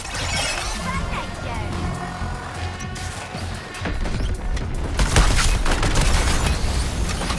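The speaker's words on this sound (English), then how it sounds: "Artillery shell!" Artillery shell explosions in the Suicide Squad: Kill the Justice League video game, a crashing barrage of blasts and debris that swells toward the end amid game combat noise and character voices.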